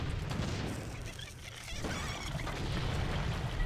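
Explosions in Warcraft 3: Frozen Throne, Scourge campaign mission 7, in a dense, continuous battle din of booms, crashes and rumbling blasts that dips briefly then swells again at steady loudness.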